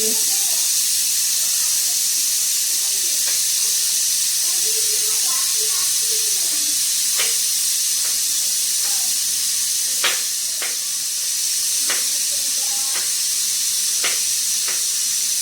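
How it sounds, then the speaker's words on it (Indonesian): Steam hisses steadily out of a pressure cooker valve as the pressure is released after cooking meat, a continuous bright hiss with small clicks and taps of the pot, while someone speaks softly in the background. "Kita keluarkan uapnya sampai nggak bunyi, baru dibuka panci prestonya."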